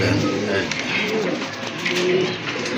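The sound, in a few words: pigeon cooing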